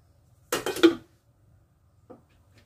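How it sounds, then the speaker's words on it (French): A large serving dish set down on the lid of a Thermomix bowl, giving a short cluster of clattering ceramic knocks followed by one faint clink in a quiet kitchen. "Placez un grand plat de service sur le couvercle du bol."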